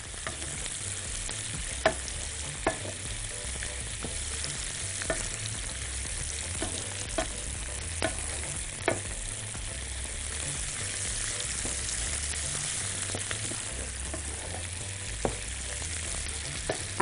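Meat sautés in a pan with a constant loud sizzle, punctuated by regular sharp clicks and scrapes of a utensil stirring, heard up close without speech.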